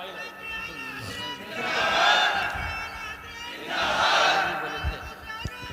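At a religious speech, a crowd chants slogans in two loud rising swells, with voices massed together and a lull between them.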